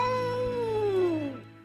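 A cat gives a single long yowl that sinks steadily in pitch before cutting off, loud and close, used as an audiobook sound effect.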